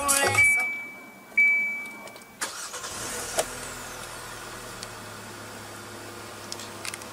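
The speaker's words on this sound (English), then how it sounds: "what you're hearing is that 2-liter 4-cylinder engine" A 2015 Kia Soul's 2-liter 4-cylinder engine starts with a push-button start, then settles into a steady, quiet idle with a low mechanical hum that continues alone.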